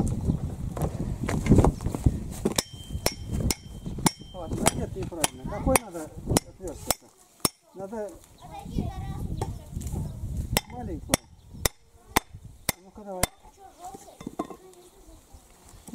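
Sharp hammer blows ring out as an axe head is driven onto its wooden handle, a dozen or more loud strikes in irregular bursts, with someone talking in Russian between and over the knocks.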